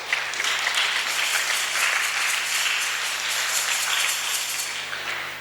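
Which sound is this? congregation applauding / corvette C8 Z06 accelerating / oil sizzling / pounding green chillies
congregation applauding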